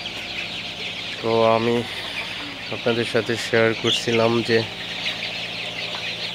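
Sonali super hybrid chicks, 29 days old, clucking while drinking water, a few close, rhythmic clucking bursts alongside someone talking over a steady background hum.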